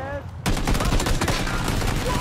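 Gunfire in the battle royale video game PUBG, a loud dense run of rapid shots firing almost without pause, close and alone.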